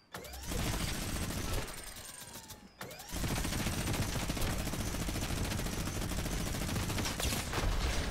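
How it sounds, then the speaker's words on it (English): Brutus's minigun blasts in Fortnite, a loud continuous rattle of rapid fire that breaks off briefly near the three-second mark and then resumes, sustained to the end. "this minigun is just absolutely crazy. I didn't even realize how good Brutus's minigun actually was until now"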